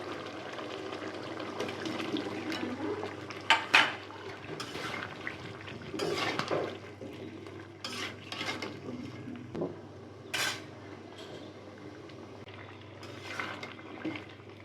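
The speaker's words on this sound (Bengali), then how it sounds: "ভালো করে মাংসটা শশার সাথে কষিয়ে নিচ্ছি" Beef and cucumber being stir-fried in a pot, with a low steady background hum, scattered clinks and scrapes of a utensil against metal, and gentle bubbling and sizzling, close by, no talking.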